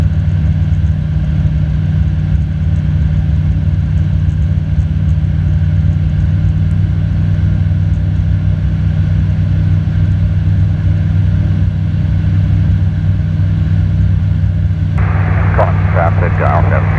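A light aircraft at Edenvale Aerodrome, with its engine droning loud and close as it readies for takeoff. The steady low rumble runs throughout, and voices briefly come in near the end.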